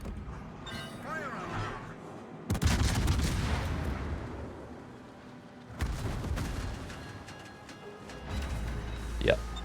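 Naval gunfire from the battleship Ohio in World of Warships. Two loud, booming broadside salvoes roll out several seconds apart, with a voice talking quietly over the battle noise.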